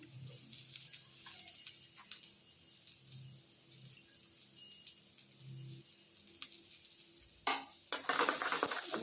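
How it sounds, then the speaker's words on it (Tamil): Onions frying with mustard seeds and dried red chillies in hot oil for a Tamil bottle gourd adai batter, a quiet sizzle with spoon stirring scrapes and a louder clatter near the end. "வெங்காயத்தை வதக்கிப்போம்."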